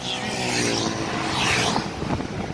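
A small scooter engine revs up and holds a rising, buzzing whine, loud and close, with wind noise on the microphone.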